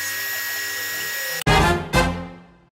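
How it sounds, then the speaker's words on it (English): A desktop polisher hums steadily, then a high-pitched whine flares up twice in quick succession as copper electroformed skulls are briefly buffed, the sound tapering off and stopping. "Using a desktop polisher, I'm going to give it a quick buff."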